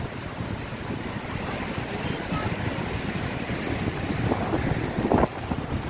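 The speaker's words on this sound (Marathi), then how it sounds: "गडुळलेलं पाणं वाऱ्यामुळे लाटा उसळल्या आहेत" Wind-driven waves churn steadily on murky water at a Konkan shore, a continuous rough wash mixed with gusty wind buffeting the microphone.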